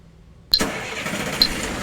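A lorry engine at a loading dock bursts into life after near silence, then runs at a steady, loud rumble as the truck pulls away, with a second brief surge partway through.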